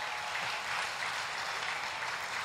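Applause from a church congregation, a soft, even wash of clapping heard from a distance, steady and low throughout with no talk over it.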